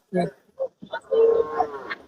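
A Bargur hill cow moos at a temple festival cattle fair in Anthiyur, a short call followed by a longer drawn-out low moo, close and fairly loud with a couple of brief sounds before it.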